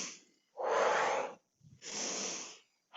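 Two long, deep breaths taken during a stretching and mobility workout, each a loud airy rush lasting about a second, separated by a short pause, with no talking.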